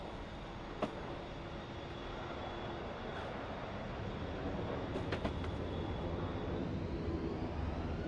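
A piston aircraft engine in a flight simulator game, DCS or War Thunder, drones steadily throughout, loud and continuous with a few faint clicks, then a slight rise in level toward the end.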